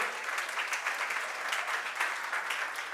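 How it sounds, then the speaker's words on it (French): Applause from a crowd of guests at a Gabonese wedding evening party, steady dense clapping throughout with no talk over it. "Applaudissements, s'il vous plaît."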